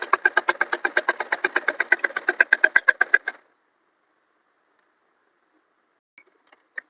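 A sewing machine stitches a square neckline on a short top, giving a fast, even run of mechanical thumps for about three seconds before stopping, followed by a few soft clicks.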